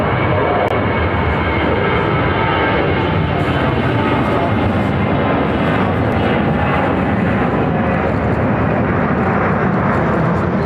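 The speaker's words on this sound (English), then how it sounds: "First departure on way 3298." Departing airplane taking off at Chicago O'Hare, a loud, sustained jet roar with dense rumble filling the whole stretch at steady, close intensity.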